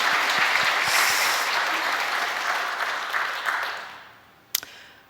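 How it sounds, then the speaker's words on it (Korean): A church congregation applauds news of a couple's wedding during a Sunday sermon, thick sustained clapping that gradually fades out, followed by a single sharp knock near the end. "이럴 때는 박수를 쳐야 됩니다."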